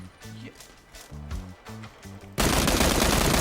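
Gunfire in the PUBG battle royale video game: after a stretch of quieter rhythmic thumping, a loud, sustained burst of shots suddenly fills the sound and keeps roaring to the end.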